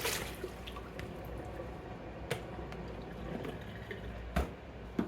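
Water dripping and trickling off freshly blanched green beans as they drain, faint irregular drips and splashes with a few sharper spatters, quiet and close with no talk.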